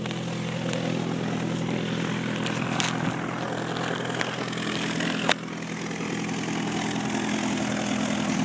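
Propeller aircraft engine drones steadily and loudly throughout, a constant airplane hum with a faint click midway, no talk.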